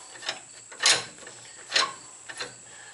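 A threaded rod is screwed into an adapter on the wheel hub of a 2001 Chevy S10 during a bearing replacement, giving a few soft metallic clicks and scrapes at irregular intervals, close and fairly quiet, without talking.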